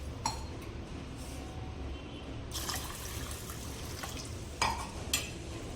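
Soaked mixed lentils for dal are swished and rinsed in clean water in a bowl, giving soft continuous sloshing with a few sharper splashes and clinks, fairly quiet and close.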